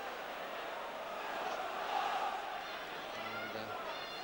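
A football crowd murmurs and swells at the Victoria Ground, Stoke, a distant, faint, continuous roar that rises briefly in the middle while a commentator talks over it.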